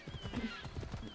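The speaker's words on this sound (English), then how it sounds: "I like the horses in this game too" Horse in Assassin's Creed Odyssey, quiet hoof clip-clops trotting in a quick rhythm with a brief whinny, faint and low in level as game sound.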